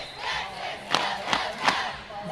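Roller derby crowd at a regional tournament game cheering and shouting, a broad roar with three sharp bursts of louder yells rising out of the steady din.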